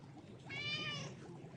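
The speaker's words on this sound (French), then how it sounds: "Pendant ce temps, Rachid, tu promènes le chat dans la maison." A cat meows once inside a house, a clear drawn-out mewing cry over faint room noise.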